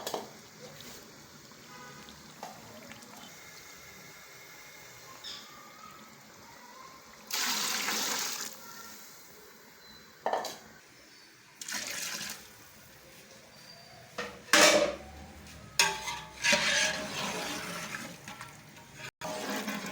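Mutton stock and water are poured into a pot for yakhni pulao in several separate pours. Each pour is a splashing, gushing rush, and the pours are separated by quieter pauses.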